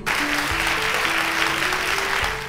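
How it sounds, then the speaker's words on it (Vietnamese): Children clap together in a classroom reading lesson, a dense, steady burst of applause lasting a couple of seconds over a faint background tone. "Vỗ tay."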